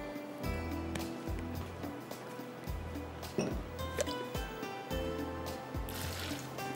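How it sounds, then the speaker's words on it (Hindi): Water splashes and trickles into a blender jar in a steady pour, with faint drips and clatter close by; no voices. "इसमें डालती हूँ थोड़ा सा पानी"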